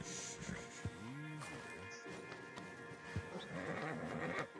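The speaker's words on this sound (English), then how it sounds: "Marston, you're gonna tether him up to Javier's horse." A horse in Red Dead Redemption 2, a western video game, whinnies with a rising and falling neigh amid hoof clip-clops and snorts, fairly close, with faint talk in the background.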